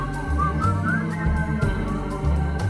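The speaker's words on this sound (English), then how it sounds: "Whistle." A melodic whistled line from a song rises over a spy-film style arrangement with steady low bass notes and percussion, the whistling clear and prominent throughout with no talking.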